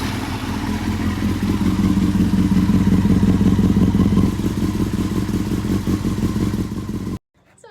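A Yamaha YZF-R6 motorcycle idling through its exhaust, a steady loud engine burble with clattery pulses, settling slightly lower partway through before cutting off abruptly near the end.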